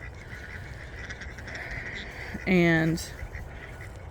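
A single honking call from two-week-old goslings in an outdoor tractor coop rises briefly above a steady background hum, with a short spoken word nearby.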